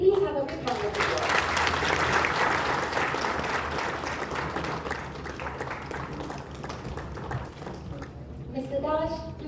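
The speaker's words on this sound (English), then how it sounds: "May we please have a big round of applause." Audience applause at a felicitation ceremony in the Parliament Annexe, a broad sustained clapping that swells then gradually fades, with a speaking voice heard briefly at the start and end.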